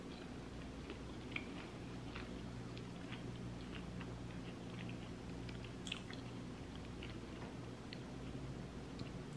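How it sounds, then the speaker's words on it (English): A person chewing food close to the mic, soft repeated moist chewing and occasional small crunchy clicks over a quiet room hum. "I know some people don't like hearing people chew"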